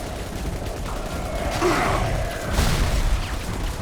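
Gunfire from a weapon in the video game Bioshock 2 Remastered: two muffled bursts over a dense, noisy game background, with no speech.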